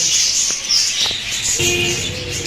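Lovebirds in a bird shop give high, thin chirps and squeaky calls over a continuous bright chatter, with a few soft taps and a lower rustle late on, close by.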